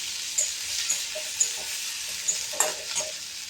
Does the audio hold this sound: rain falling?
no